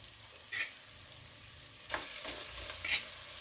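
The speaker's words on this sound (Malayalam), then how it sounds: "ഇതിലേക്ക് നമുക്ക് മാരിനേറ്റ് ചെയ്ത് വെച്ചിരുന്ന ചിക്കനെയും കൂടെ ഇട്ട് കൊടുക്കാവേ" Marinated chicken is added to a pressure cooker and stirred for biryani: a low steady fry with three short scraping stir bursts, no voices.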